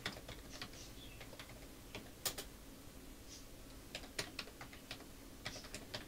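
Typing on a computer keyboard while filling in a small business invoice: quiet, irregular key clicks and taps in short bursts, with a few sharper strokes, heard close with no talk.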